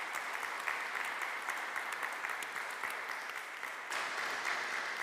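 Applause from an audience at a church religious freedom evening, sustained crowd clapping with crisp individual claps audible, steady and fairly close.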